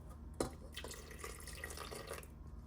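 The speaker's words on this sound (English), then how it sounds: "So what we will do is we'll add some water." Water poured into a moong dal and oats batter in a grinder jar, a short burst of splashing followed by a gentle steady pour and drips, close and fairly quiet, with no talking.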